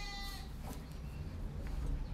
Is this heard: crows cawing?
no